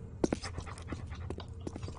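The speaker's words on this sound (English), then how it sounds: "Doggy." A dog panting in the Postal 2 video game, rapid rhythmic breathy huffs with a couple of sharper puffs near the start, steady and fairly close, with no speech over it.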